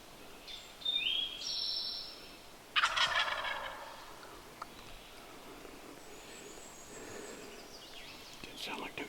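A wild turkey gobbles twice during a Pennsylvania spring hunt, the calls faint and distant over quiet woodland background.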